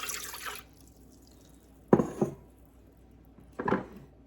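Water runs into a bread machine pan for rye bread in two short, close pours, each a bright splashy burst lasting under a second, separated by quiet.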